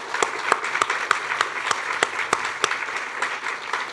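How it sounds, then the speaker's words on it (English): Audience applause at a college science and mathematics awards ceremony for departmental award winners: sustained, dense clapping with sharp individual claps standing out, fairly close and filling the whole moment. "Let's give them a big round of applause."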